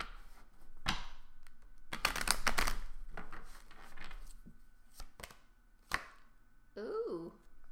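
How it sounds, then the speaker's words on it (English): Romance Angel oracle cards being shuffled, giving a run of quick papery riffles and soft slaps at close range, with a short burst of dense crackling flutter in the middle and a few isolated card taps. "One more shuffle, and I think we're all set."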